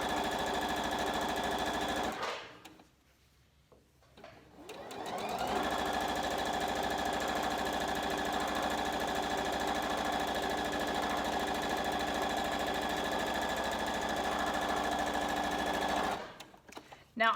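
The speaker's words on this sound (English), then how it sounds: "Do our 1/4 inch seam just all the way down this straight edge." A sewing machine stitches a quarter-inch seam down a straight edge of fabric for an Easter egg garland, a steady close mechanical whirr with a brief stop near the start and another near the end.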